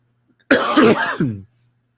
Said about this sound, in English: I've been sniffing and coughing all day